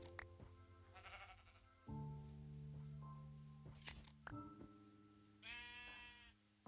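A game's sheep bleats over layered synth music and chimes, the bleats coming in short wavering bursts early and again near the end, with no speech.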